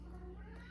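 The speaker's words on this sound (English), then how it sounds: "That's my cat in the background." A cat meows faintly in the background of a home kitchen, one brief, soft call with nobody talking.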